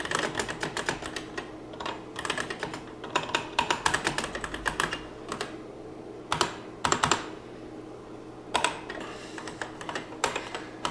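Rapid typing on the keyboard of a DL1416 SmarTerm computer terminal, with clusters of close, crisp key clicks and brief pauses between bursts, no voices.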